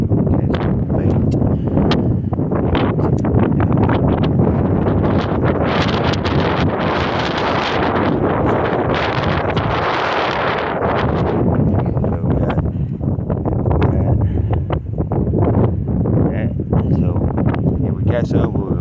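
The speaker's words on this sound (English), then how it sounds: "It's real windy." Strong wind buffets the microphone at the Baytown Nature Center shore by the bay, a loud, continuous roar with gusting rustle that stays heavy for the whole stretch.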